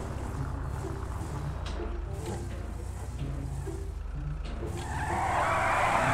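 Toyota Sienta family car in a modded GTA V driving game races with a steady engine drone and tire noise, then a rising hiss of skidding or tire squeal near the end. No voices are heard.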